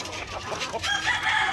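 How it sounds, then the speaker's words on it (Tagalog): Hens cluck close by on a small poultry farm, mixed with a rooster's crow, in a busy burst of fowl calls about a second and a half long. "So ito yung iba nating mga manok dito mga ka-farmers."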